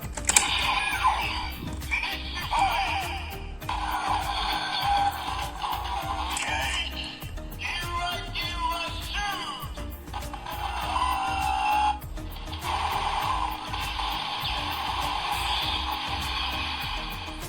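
A Kamen Rider Zikan Zax DX toy weapon gives out bursts of electronic sound effects and music, loud and busy in distinct segments separated by short breaks and button clicks.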